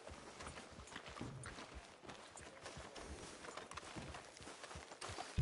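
A horse being ridden in the Western video game Red Dead Redemption 2, its hooves clopping in a soft, steady rhythm for several seconds, quiet and somewhat distant under faint ambient noise, with no talking.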